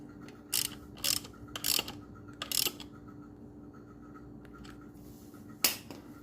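Ratchet tightening a horn back onto a Honda XR150L motorcycle, several short bursts of clicking spaced about half a second apart, then a pause and one final burst, close and fairly quiet.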